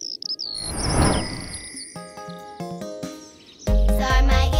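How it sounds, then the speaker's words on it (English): Birds chirp and sing in bright, tinkling phrases, several calls overlapping and repeating, with a louder burst near the end, and no talking over them. "Let's use our ears to listen to the birds."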